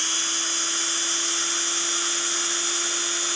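A Parkside 12V cordless drill spins a 6 mm metal bit freely without drilling, a steady high-pitched motor whine with a constant tone, close and continuous, no speech over it.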